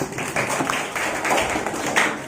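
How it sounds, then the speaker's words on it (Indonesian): Scattered group clapping in a school classroom, acknowledging a student's answer during a religious-studies lesson; the claps are dense and fairly close, blending into a steady patter with no talk over them. "Tepuk tangan buat Najmi"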